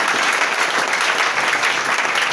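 A church congregation applauds steadily and loudly, a dense unbroken wash of clapping with no voices rising above it.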